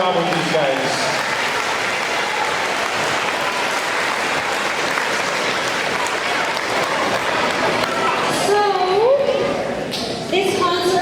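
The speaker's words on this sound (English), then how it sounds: "Let's give a huge round of applause to Mrs. Olson." Audience applause at a school Christmas concert, dense sustained clapping from a full room, with scattered children's voices and brief chatter rising near the end.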